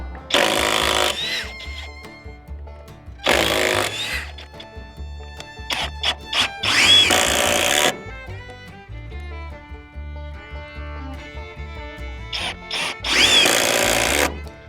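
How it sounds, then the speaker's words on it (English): A power drill drives construction screws into carport wood in repeated bursts. The motor whines loudly in short runs separated by pauses, with lighter clicks and handling noise between them. "So it's time to drive a couple of these, or back a couple of these out, and then drive a couple of the new ones in."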